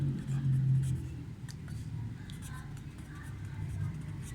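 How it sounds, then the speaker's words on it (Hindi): A hand writes a percentage yield formula, probably with pen or marker, giving soft, scratchy strokes in short bursts against a low, steady background hum. "हम इसका फार्मूला लिखते हैं।"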